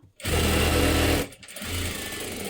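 A sewing machine stitches a full seam along the edge of a blouse. A loud burst of rapid, steady mechanical stitching runs for about a second and stops abruptly, then a quieter, slower run of stitching follows.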